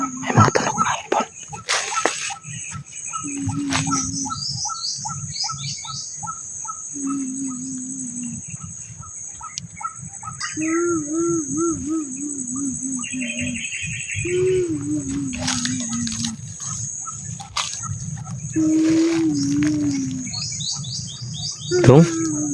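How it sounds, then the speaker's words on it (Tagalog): Birds chirp and whistle in short repeated phrases over a dense, steady cricket trill, loud and close, with a person talking intermittently between the calls. "May mga tunog na ibon."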